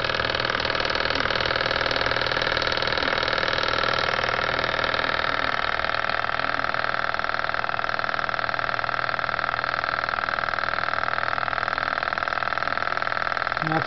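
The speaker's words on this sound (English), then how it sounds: "Feeling lazy, just want to run the engine." An engine fitted with a simple homemade oil separator runs steadily at idle, a loud continuous drone with no change in pace throughout.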